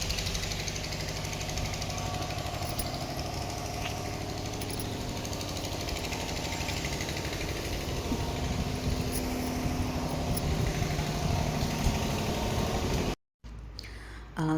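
A car's engine idles nearby with a steady, even rumble and rapid knocking pulse that runs unbroken for about thirteen seconds before cutting off briefly.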